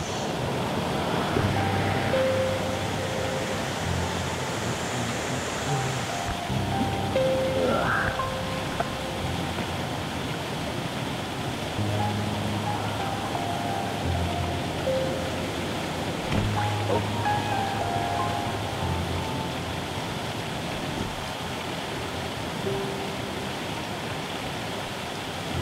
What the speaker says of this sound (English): A look from the bottom shows how staircase-like this waterfall feature really is.